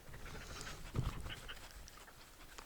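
A dog pants softly and steadily nearby in the New Zealand backcountry, a quiet breathy rhythm with one slightly louder burst partway through.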